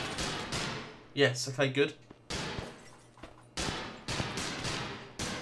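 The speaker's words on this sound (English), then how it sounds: "So if we get our gun out like that, we're going to have to shoot all these dudes." Gunfire from the retro action video game The Eternal Castle sounds as several sharp bursts of shots, near and loud, split by a pause where someone speaks briefly.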